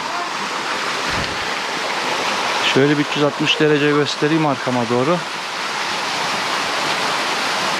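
A steady, loud rush of falling water from the Tatlıca waterfalls in Erfelek, Sinop, Turkey, fills the whole clip, with someone speaking briefly over it in the middle.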